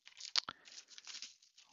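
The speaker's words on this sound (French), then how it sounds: "On enlève la petite pellicule de plastique." Thin plastic film wrap being peeled and torn off a film disc case, close crinkling and tearing crackles in quick irregular bursts, quiet and alone.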